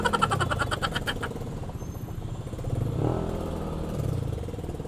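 Friday traffic near Araneta with cars and motorcycles, engines droning and revving close by in a steady rumble, with one motorcycle rising in pitch as it passes.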